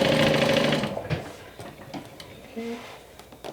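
A sewing machine bastes around the outside edge of a fabric bag piece, running loud and steady for about a second before easing off into lighter clicks and handling noises, with a brief faint whir later.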